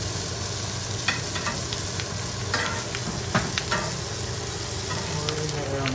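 Butter sizzles and fries steadily in a tilted pan as it is spooned over food, with occasional soft scrapes and clinks standing out above the continuous crackle.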